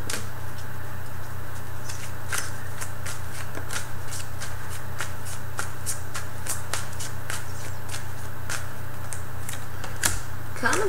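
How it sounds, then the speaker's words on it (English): Tarot cards riffle and shuffle in steady bursts of crisp flapping and snapping, close and continuous, over a constant low hum with no talking. "Kind of difficult shuffling your cards, I will say."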